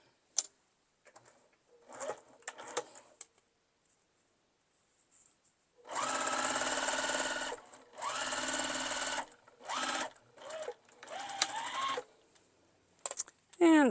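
A sewing machine stitches a coffee cup mug rug in several rapid mechanical bursts of varying length, separated by quiet pauses, small clicks and some soft talk.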